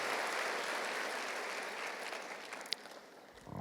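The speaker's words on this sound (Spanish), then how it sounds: "Dele un aplauso al Señor si usted lo cree." A church congregation applauds at a Spanish-language worship service, a dense sustained clapping that slowly fades toward the end.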